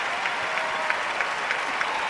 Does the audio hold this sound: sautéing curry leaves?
no